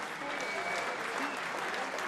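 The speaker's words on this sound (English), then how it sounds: "Round of applause for both of our fighters for our main event of the night." Brief burst of crowd applause for both fighters after a main-event boxing bout, steady and moderately distant, with some voices mixed in.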